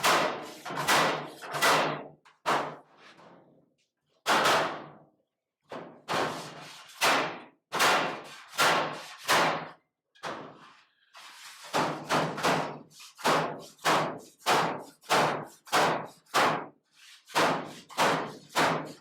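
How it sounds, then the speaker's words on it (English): A big hammer pounds a truck cab's floor pan during fabrication, delivering dozens of loud, close metallic blows in quick bursts with short pauses between groups. "The fix is I get the big old hammer, hit that right in."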